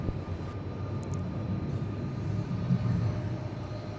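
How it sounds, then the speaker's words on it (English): A Southwest Boeing 737 MAX 8 takes off, heard as a broad, steady jet roar at moderate distance that swells slightly toward the end. "Southwest 25 to Dallas Love Field, a MAX 8. We're going to see that take off."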